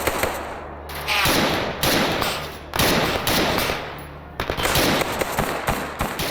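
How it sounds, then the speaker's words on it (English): Crackling bursts of automatic gunfire in the STALKER video game, coming in rapid volleys with short pauses between them and sounding fairly loud and sharp. "the second you start hearing the crackle of far-off gunfire"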